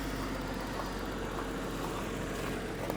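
A truck idles steadily after an engine swap, running a little high, with a low, quiet, even hum and no voices.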